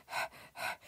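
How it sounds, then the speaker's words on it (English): A panting sound effect from a free sample library, two close, loud breathy exhalations in an even rhythm. "you see what I mean, the panting."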